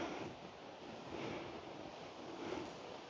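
Sea waves and wind along the Odesa seaside, a steady broadband roar of surf with gentle swells and rumbling wind against the microphone, fairly distant and continuous with no talking.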